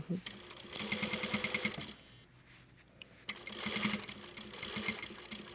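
A sewing machine runs a bar tack on a fleece vest zipper, with close rapid stitching in two bursts around a brief pause, while a person talks over it.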